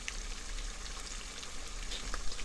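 Meats and stockfish simmer in a palm oil stew, giving off a steady, moderate sizzling crackle with scattered small pops and no voices.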